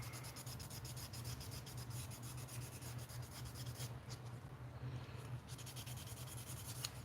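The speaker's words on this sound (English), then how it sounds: "I got some 600 here to go in here and try to sand out some of these" Quiet, steady rubbing as 600-grit sandpaper is worked wet over plastic parts of a 1/60 NeoGrade Sazabi model kit, with repeated short strokes and a brief pause midway, close and faint.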